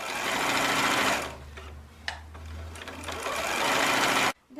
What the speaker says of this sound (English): press the bottom to sew the lace